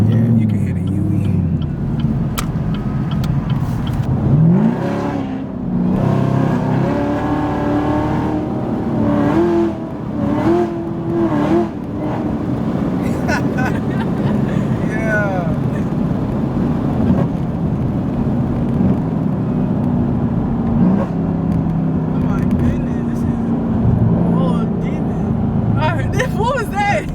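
A 1000hp Chevrolet Camaro ZL1 rumbles loud and close, its engine note rising and falling through revs and downshifts, with people talking over it throughout.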